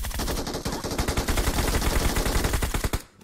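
MG3 machine gun in PUBG Mobile letting off a sustained loud automatic burst of rapid, evenly spaced shots for about three seconds, stopping abruptly at the end.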